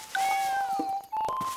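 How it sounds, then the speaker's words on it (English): A little cartoon cat hiding in a bush gives a quick series of loud, close, high-pitched meows and mews with no talk over them. "Come on, little cat."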